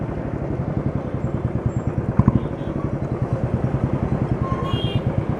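A Royal Enfield Bullet 500 engine thumps steadily in a loud, even beat on a ride through Jaipur, Rajasthan, with a brief clatter midway.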